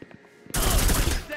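Gunfire in the Reservoir Dogs video game: after a quiet moment, a loud, dense burst of rapid shots erupts and keeps rattling for nearly a second before easing off.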